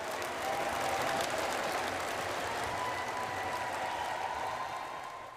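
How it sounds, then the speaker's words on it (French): A crowd greets a prime minister's arrival at a women's sports event with steady, dense applause and cheering that holds level and then fades slightly at the end, with no clear speech. "C'est sous les applaudissements et les acclamations du public que le Premier ministre a fait son entrée"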